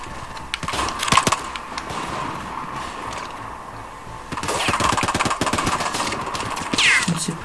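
Gunfire in the video game Battlefield 4: bursts of rapid shots, a cluster near the start and a longer, louder run of repeated cracks in the second half, over a steady game background.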